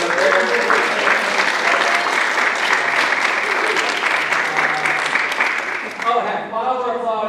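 Audience at a school drama workshop performance claps steadily and loudly for several seconds, and the clapping fades as a speaker's voice comes in at the end.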